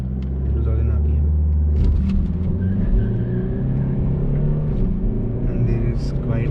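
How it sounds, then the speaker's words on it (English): Mercedes-Benz E 220d diesel sedan in Sport Plus mode launching hard from a standstill with wheel spin: a loud, close, steady engine roar and tire rumble throughout, with someone talking over it. "And there is quite a lot of wheel spin."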